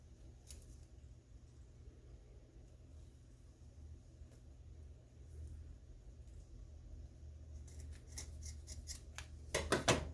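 Scissors snip small pieces for a craft bow in a quiet room over low rumble, with a few faint isolated cuts early on and then a quick cluster of close, crisp snips toward the end.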